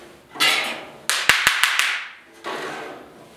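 Rough, scratchy abrasive strokes of 40 grit sandpaper on the metal of a 1956 Ford pickup, a few long rasping passes broken by quick sharp taps, close and fairly loud.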